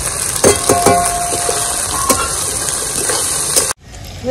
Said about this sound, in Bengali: সামান্য আমি মশলাগুলোকে একটু কষিয়ে নিব, তারপরে তো খিচুড়িতে দিয়ে দেবো।